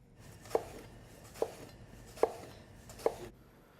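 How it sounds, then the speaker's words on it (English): A knife slicing thin onion rings on a cutting board, with four quiet, evenly spaced chops heard close up against a soft background. "then just cut thin rings of onion"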